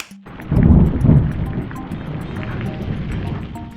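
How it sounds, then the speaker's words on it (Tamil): A rain-and-thunder sound effect: a low rolling rumble swells early then settles into a steady wash of rain and wind noise, loud and close, with no talking. "இப்போ உதாரணத்துக்கு இந்த இடத்துல எனக்கு மழை வர மாதிரி காமிக்கணும்னா"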